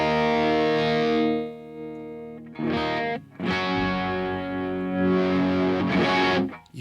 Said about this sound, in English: You hear that increase in gain.